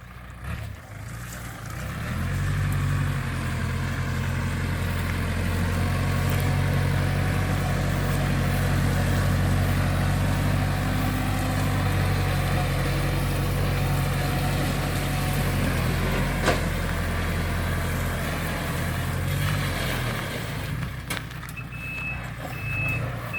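A small walk-behind tractor ploughs a field cleared in the forest, its engine a steady, loud, close diesel drone that holds nearly unchanged throughout, with no talking.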